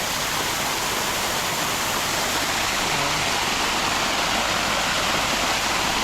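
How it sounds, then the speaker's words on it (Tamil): A waterfall at Yelagiri Hill park roars in a steady, dense rush of falling water, loud and continuous throughout with no voices. "உள்ளே பார்த்தீங்கன்னா ஒரு நல்ல நீர்வீழ்ச்சி பட் இந்த இடத்துல கிட்ட இருந்து நீங்கள் பார்க்கலாம்"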